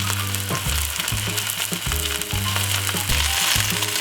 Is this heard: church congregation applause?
no